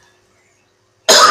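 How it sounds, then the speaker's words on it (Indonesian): A single sharp, loud cough bursts out near the end after near silence. "kok jadinya batuk"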